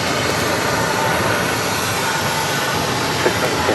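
An American Airlines Boeing 777 arriving from London descends to land at Phoenix Sky Harbor, a loud, broad roar of jet engines rushing steadily nearby.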